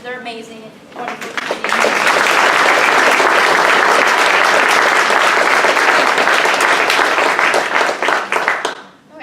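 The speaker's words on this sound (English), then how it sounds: "another round of applause for our speakers" An audience breaks into loud, sustained applause that swells quickly, holds steady for several seconds, then tapers off.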